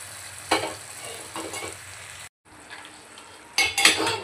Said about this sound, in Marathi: आता यामध्ये आपण शेंगांचं पाणी ॲड करू.